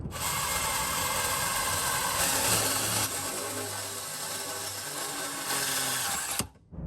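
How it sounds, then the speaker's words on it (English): A power drill runs continuously, a steady whining grind with a brief dip near the end as the bit cuts a 3/8-inch hole through the steel frame rail of a Lexus LX470. "I'm gonna drill a pretty straight hole"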